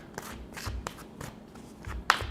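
Tarot cards being shuffled and pulled by hand, a run of soft riffling and slapping card sounds in irregular bursts, close by, ending with a sharper snap.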